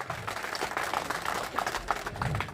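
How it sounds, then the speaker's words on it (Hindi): An audience at a farewell ceremony in Malpura applauds for a departing deputy, with rather faint, uneven clapping from a crowd that rises and dips over a couple of seconds. "मैं आप सबसे एक बार निवेदन करना चाहूँगा कि जोरदार ताली बजा के एक बार।"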